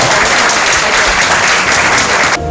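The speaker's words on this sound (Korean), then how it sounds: "박수 한번 부탁드립니다" A room of wedding guests gives a full, steady round of applause at a small ceremony, loud and continuous before cutting off abruptly at the end.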